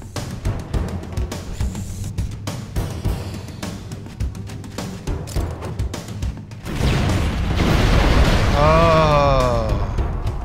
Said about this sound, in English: There was a rather large explosion.